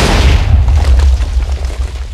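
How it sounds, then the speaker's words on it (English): A cannon blows up during a video game pirate battle: a loud, close boom with a rolling, rumbling tail that fades over about two seconds. "You just blew up your cannon."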